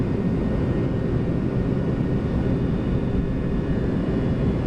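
Jet airliner engines spooling at takeoff thrust from inside the cockpit of an older airliner operated in Canada, a steady, loud broadband roar filling the cabin with no speech.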